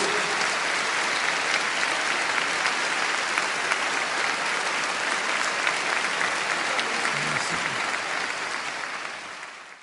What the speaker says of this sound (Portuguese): Dá salva de palmas a Jesus.